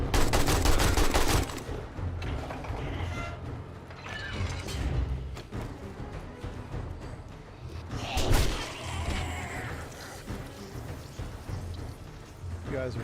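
Gunfire in the video game 7 Days to Die: a burst of loud rapid shots at the start, then scattered single shots and thumps over quieter game sounds, with a player talking at times.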